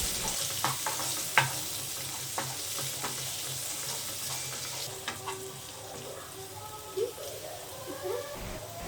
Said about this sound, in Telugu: ఇప్పుడు మనం ముందుగా కట్ చేసి పెట్టుకున్న క్యాప్సికమ్ని వేసి ఒక 2 మినిట్స్ కుక్ చేసుకోవాలి.